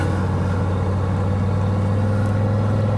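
A full-throttle run in an Audi Quattro, the turbo engine pulling a steady, loud low drone with a strong harmonic hum that holds evenly throughout, close to the car.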